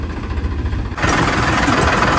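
A tractor engine rumbles steadily, growing louder and rougher about a second in as it revs under load cutting furrows, close by with no voices.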